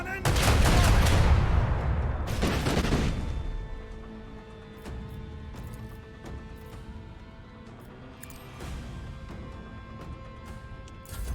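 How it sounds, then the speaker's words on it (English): Macro cannon fire from a starship battle in the video game Rogue Trader, a loud rolling barrage of heavy blasts at the start with another burst around three seconds, then decaying rumble under sustained tones. "Macro cannon."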